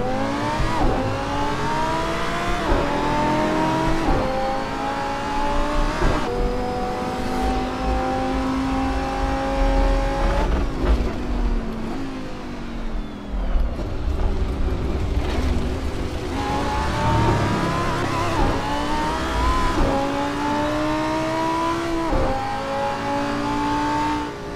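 A McLaren in Assetto Corsa howls down the straight with launch mode engaged, its engine climbing through repeated rising revs and gear changes, loud and close, with a brief lift and a fainter tire squeal midway.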